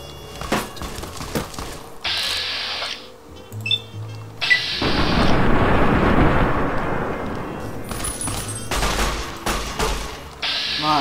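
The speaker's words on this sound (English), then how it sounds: "A lot of bullets." Gunfire and mechanical clatter in the video game Fallout New Vegas, with clicks and short bursts followed by a long sustained barrage of shots, loud and close.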